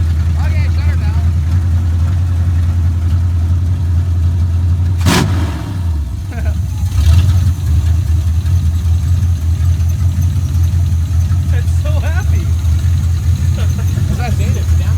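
A 1972 Chevrolet Monte Carlo off-road racer's engine idles with a steady deep rumble throughout, a brief rev near the middle, while someone speaks over it.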